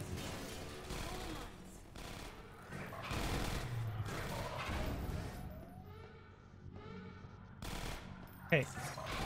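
Gunfire in the Half-Life 2 Episode One video game, dense rapid bursts of shots and combat noise at a steady level, with people talking over it.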